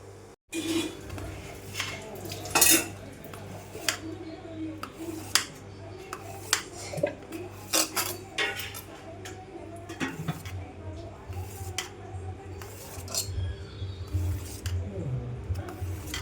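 A knife cuts through a plate of steamed Surati vati dal khaman, giving a series of light clinks and taps against the plate, irregular and close, over a low steady background hum.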